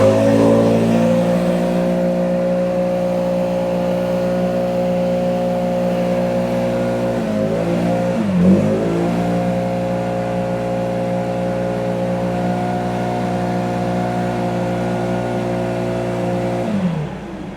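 Stihl BR 800 C-E Magnum backpack blower engine running steadily at a loud, constant drone, dipping briefly in pitch midway before recovering, then dropping off at the very end.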